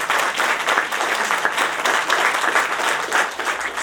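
Steady, dense applause from a college campus audience fills the room for several seconds, greeting a student speaker, close and continuous with no talk over it.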